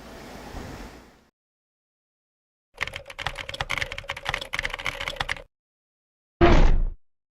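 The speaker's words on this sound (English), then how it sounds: "This is a VAVA mechanical keyboard with blue switches." Clicky blue-switch keys on a VAVA Chroma mechanical keyboard clatter in a rapid, steady burst of typing, heard alone and close, with quiet gaps of near-silence before and after.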